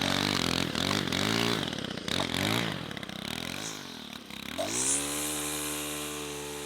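A small petrol brush cutter clearing brush between rows of planted trees runs loud and close, its engine revving up and down in rising and falling pitch sweeps before settling into a steady high whine. No one speaks.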